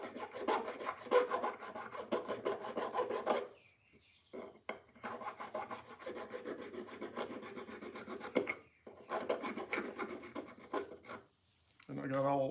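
A hand file rasping burrs off a metal ratchet gear and pawl, heard as close, repeated scraping strokes in bursts with a few short pauses between them.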